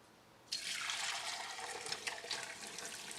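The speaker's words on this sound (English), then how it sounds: "I'm pouring into an onion that's spraying it all over the place" Bone broth poured over an onion in a home kitchen, splashing and spraying: a sudden loud, steady gush of liquid that continues with bubbly spattering, close by, with no talking.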